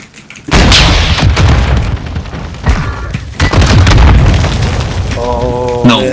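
An RPG blast in Call of Duty: Modern Warfare II, a loud, close booming explosion with a heavy rumbling tail, followed by further thuds and game effects, then tonal sounds near the end.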